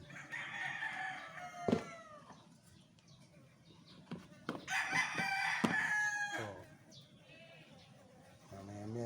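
A rooster crows loudly twice amid clucking chickens, with scattered knocks and a person talking briefly nearby.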